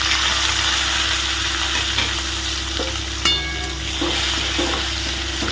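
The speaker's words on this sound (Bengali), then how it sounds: "ওই তেলের মধ্যে কি দিচ্ছি দিচ্ছি টমেটো" Tomato with green chili and grated ginger fries in hot oil, giving a steady, loud sizzle with a brief utensil clatter partway through and no talking.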